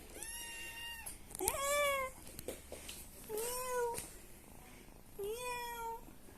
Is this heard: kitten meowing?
yes